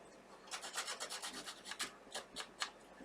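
Scissor blades rasp quickly along paper edges, a rapid series of dry scratchy strokes close up, quiet and without voices.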